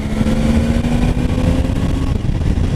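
A 2019 Triumph Tiger 800 XR A2 version, an 800 cc three-cylinder, pulling in sixth gear from around 3000 rpm, its engine a loud, steady, close drone with a faint rising tone and constant wind noise.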